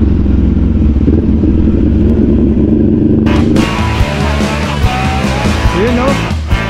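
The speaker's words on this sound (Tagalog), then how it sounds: "Galit na galit yung makina nitong SR1000 na to." A SR1000 motorcycle engine roars loudly and continuously up close during a holiday ride in Zambales, Philippines, its steady revving drone shifting in tone partway through, with no talking.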